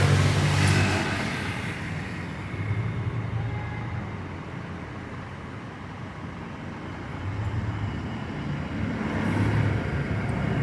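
Steady road traffic in the Philippines, a continuous rumble of cars and engines nearby with a few rising swells as vehicles pass, no voices.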